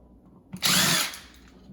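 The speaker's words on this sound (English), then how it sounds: "We're going to use a drill because it's much faster." A power drill spins briefly while backing out a screw from a broken outlet cover, a loud whirring burst of under a second after a soft click, then quiet.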